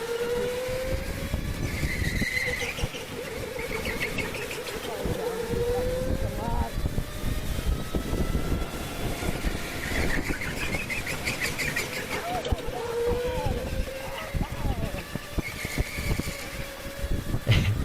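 Indoor go-kart engines buzz and whine around a K1 Speed track, the pitch rising and dropping through corners, loud and continuous with a rattly, bumpy kart and a voice talking over it at times.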